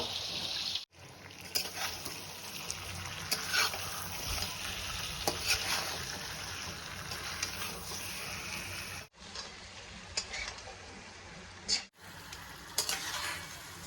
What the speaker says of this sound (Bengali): যেহেতু অনেকদিন পরে শিলনোড়ায় সব বেটে রান্না হচ্ছে ঠাকুরের জন্য